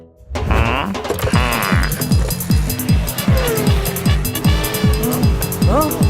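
Cartoon car driving loudly with a revving engine, rhythmic rising engine strokes, tire squeals and whooshing effects, continuous and close throughout.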